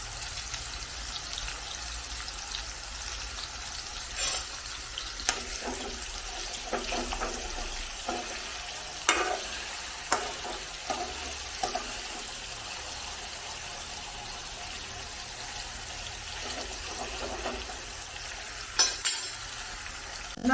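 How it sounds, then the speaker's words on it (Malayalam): Chicken pieces shallow frying in coconut oil over a medium flame, a steady faint crackling sizzle with scattered pops and occasional louder clicks of a utensil, no talk. "മീഡിയം ഫ്ലെയിമിൽ ഇട്ട് ഷാലോ ഫ്രൈ ചെയ്തെടുക്കണം വെളിച്ചെണ്ണയ്ക്ക് തന്നെ വേണം"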